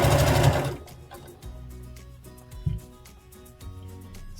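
A sewing machine sews a hoodie's stretched wristband and side seams. A loud opening run of stitching gives way to short, close, stop-start bursts of needle clatter with small thumps between them.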